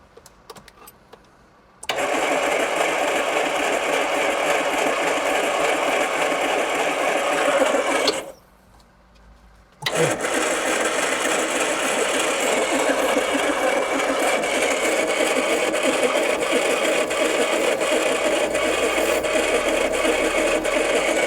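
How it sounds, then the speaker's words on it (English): The starter motor cranks an 80s turbo car engine that will not fire, producing a steady, fast churning whir, then a short pause and another long crank, close and loud with no voices. "Turning over and not firing at all, yet we had a strong spark and fuel delivery."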